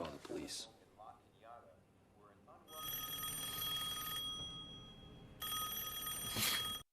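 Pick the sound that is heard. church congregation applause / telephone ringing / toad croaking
telephone ringing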